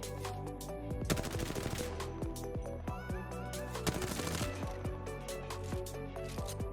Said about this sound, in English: In the game I will do some burst shots now